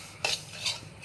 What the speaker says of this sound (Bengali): আর এদিকে আমি এটাকে ভেজে নিচ্ছি।